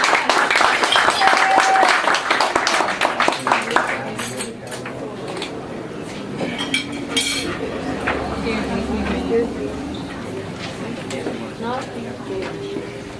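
Audience clapping at a poetry open mic rings out strongly at first, then thins to scattered claps, glass clinks and murmured chatter in the room.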